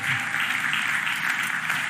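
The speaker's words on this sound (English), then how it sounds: "Give Angela Brooks and Jesse Lawrence a huge round of applause." An audience at a Philadelphia mayoral budget address bursts into sustained, dense applause that stays even and loud throughout, with no clear voices over it.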